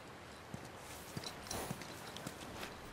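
Horse hooves clip-clop at a slow walk in The Last of Us Remastered video game, a few faint, evenly spaced hoof knocks over quiet background ambience.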